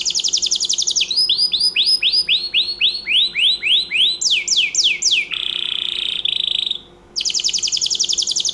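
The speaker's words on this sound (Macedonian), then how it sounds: "ќе пуштам звукот птица и ќе видам дали ќе препозна" Recorded birdsong played back through a phone speaker, loud and close: rapid repeated downward chirps in quick rhythmic series, then a buzzy trill, a brief gap, and more fast high chirping.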